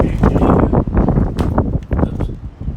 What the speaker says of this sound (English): Maybe if I come right over here, it'll be a little less windy